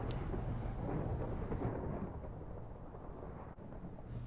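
Thunderstorm with a lightning strike in Minecraft: a loud, sustained rumbling roar of thunder with rain hiss, fading slightly toward the end, no talking.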